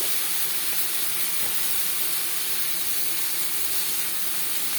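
Eggplant pieces frying in hot fish oil give off a dense, continuous sizzle and hiss that holds steady throughout, close and fairly loud, with no voices.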